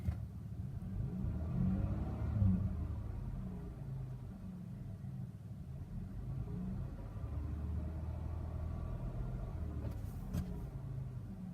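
A 2011 Volkswagen Routan engine idling and being revved, a low steady rumble with a gentle rise in pitch, heard from inside the cabin, quiet and alone.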